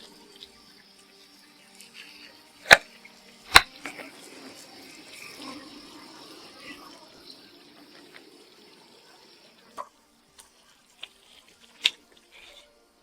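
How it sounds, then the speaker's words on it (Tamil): Water poured into a pot of Andhra-style tamarind methi gravy in a home kitchen, a soft steady pour with a few sharp clinks and knocks from the pot and utensils, fairly quiet with pauses between. "சோ கொஞ்சம் இப்ப தண்ணி விட்டுக்கலாம்."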